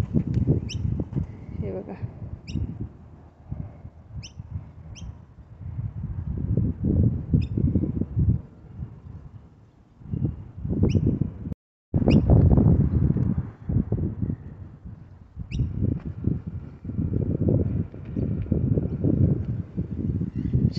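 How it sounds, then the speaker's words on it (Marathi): Small birds chirp in short, sparse high calls among trees near a river in Melbourne, faint and intermittent beneath someone talking steadily throughout, with some wind rumble. "इथे झाडं आणि पक्षी खूप मोठ्या प्रमाणात आहेत. त्यांचा चिवचिवाट आवाज वगैरे खूप येतो."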